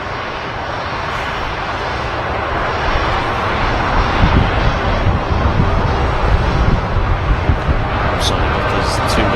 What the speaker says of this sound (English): The TUI Dreamliner on the roll.